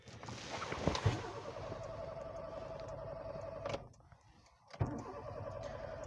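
A car engine cranks repeatedly with a rapid, rhythmic churning that fails to catch, pausing briefly before a second cranking attempt begins, heard nearby at moderate loudness.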